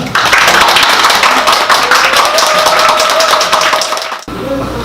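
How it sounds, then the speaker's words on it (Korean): Lecture audience gives a warm round of applause for a visiting author, loud and close, a thick continuous patter of many hands that cuts off abruptly near the end. "뜨거운 박수로 맞아주시면 감사하겠습니다"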